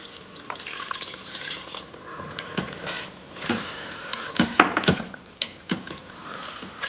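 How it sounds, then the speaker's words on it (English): Hot water splashes and trickles into an Instant Pot holding mutton pieces, with a few clattering metallic knocks, fairly close, no talking. "Add some hot water."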